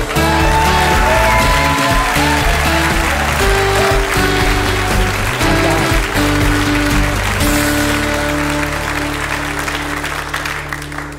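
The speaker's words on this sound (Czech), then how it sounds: "To je potlesk." A theatre audience applauds loudly and continuously for about eleven seconds, with dense sustained clapping and a crowd murmur, while music plays underneath and steps down partway through.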